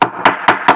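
A hammer taps a wooden dowel rod four times in an even rhythm, each knock sharp, close and loud with a short decay, with no talk.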